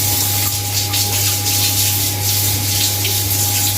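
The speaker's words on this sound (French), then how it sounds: "je vais juste rincer ma fourchette" A fork is rinsed under a running kitchen tap, water pouring steadily and close with slight splashing changes as the fork moves through the stream.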